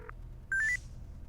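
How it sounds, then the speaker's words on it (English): Phone dialing in the video game Buried Stars: a quick series of about four short electronic tones that step up in pitch, preceded by a faint blip and set against a quiet low hum. "First, we're going to use the phone to call."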